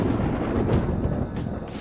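Thunder rumbles low and deep in the Persona 5 Royal video game, a rolling, moderately loud roar that swells and then fades within about two seconds, with no voices.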